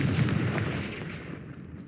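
In the Hogwarts Legacy video game, a Confringo fire spell bursts with a loud, fiery blast that rumbles and crackles, then fades over about two seconds.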